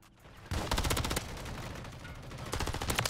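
Rapid automatic bursts from a Rival 9 SMG in Call of Duty MW3, with a loud, dense volley of close shots followed by a steady rattle and a second surge near the end.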